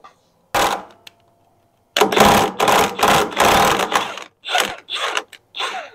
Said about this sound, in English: I'm going to run it down a little bit more